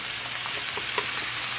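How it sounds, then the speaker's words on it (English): Meat fries in a pan of hot oil for an eggplant stew, giving a steady, close sizzle with small pops and crackles throughout. "meanwhile, still meat is cooking"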